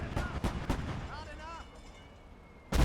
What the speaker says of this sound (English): The mortars are starting to work. I love the sound they do.